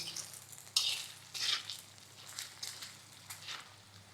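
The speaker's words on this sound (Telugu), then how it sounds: "ఇప్పుడు మనం ఈ పొటాటో పీసెస్కి ఇదంతా పట్టేలాగా చక్కగా కలుపుకుందాం" Potato pieces being stirred into masala in a pan for an egg and potato smash curry, soft scraping strokes and brief bursts of gentle sizzling over quiet frying, with no talking.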